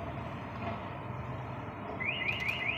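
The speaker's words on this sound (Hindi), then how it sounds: "तो ये बीप का साउंड आने लग गया है, आप इससे गाड़ी ढूंढ सकते हो" Over a constant low rumble of traffic, a Maruti Suzuki Swift's remote key finder beeps, a series of four rising electronic chirps repeating rapidly near the end, fairly distant.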